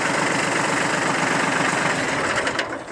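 A tractor engine idles with a steady, rough mechanical chug and low rhythmic pulsing, close and loud throughout, then tapers off as it is shut down near the end.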